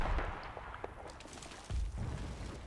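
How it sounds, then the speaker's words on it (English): Mortar rounds and scattered small-arms fire in the Combat Mission wartime game sound as dull distant thuds and faint crackles over a low rumble, with one heavier boom partway through. "It's a bit of small arms, but that's from the mortar too"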